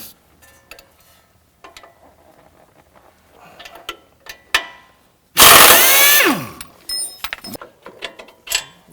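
A 19mm bolt and nut come off the bottom shock mount of a Lexus GX or Toyota 4Runner suspension, heard as scattered metallic clicks and taps followed by one loud, sustained burst of power-tool rattle.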